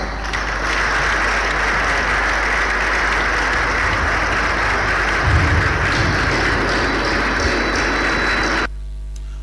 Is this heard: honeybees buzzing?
no